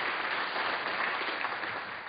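An audience applauds a volunteer named Alfredo at a live stage mind-reading show, a dense, steady wash of clapping that holds at full strength for two seconds with no voices.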